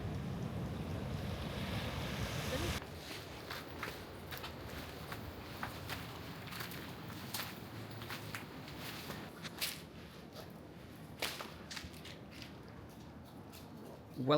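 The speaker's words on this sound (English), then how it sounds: "really nice white sandy beach" Waves rolling onto a clean white sandy beach in Siargao, Philippines, a soft steady surf wash with wind buffeting the microphone, louder at the start, then calmer with scattered faint clicks.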